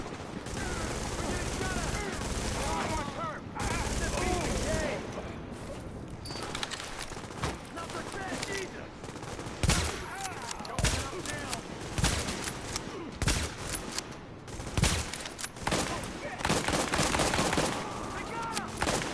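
Hostile gunfire in The Division video game: dense, loud volleys of rapid shots and bursts that rattle on almost without pause for the whole stretch.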